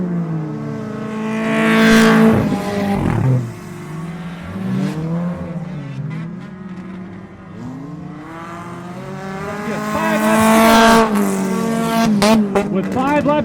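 Race cars run laps on a racetrack, with engines swelling and fading as cars pass close by, tire noise and revving pitch sweeps, while an announcer talks over the action.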